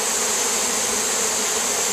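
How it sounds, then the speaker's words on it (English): A steady, loud buzzing drone of many honeybees fanning their wings, continuous and close, with no pauses. "when bees are fanning,"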